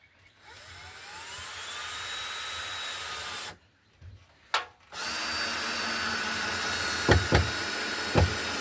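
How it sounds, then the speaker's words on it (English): Power drill whirring as it bores into pallet wood, a sustained high whine that stops briefly, restarts, then runs steadily with a few clicks and knocks. "Drill, baby, drill."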